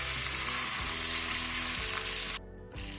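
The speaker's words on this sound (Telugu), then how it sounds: "ఇప్పుడు మళ్ళీ కొంచెం ఇటు పక్క మళ్ళీ ఇంకొంచెం వేయించుకున్నాను" Fish sizzling in a hot pan of oil with curry leaves, a steady dense crackle that carries on without pause and drops briefly near the end as the pan is moved, with no voices.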